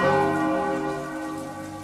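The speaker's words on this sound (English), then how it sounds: "That's the bell." A church bell in a horror game rings out with a rich, sustained harmonic tone that slowly decays over about two seconds, loud and alone with no voices.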